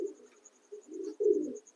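Pigeons cooing in a loft, soft low coos in a few short bursts, fairly near but quiet, with a faint steady high tone in the background and no talking.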